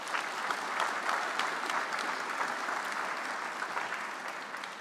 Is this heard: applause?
yes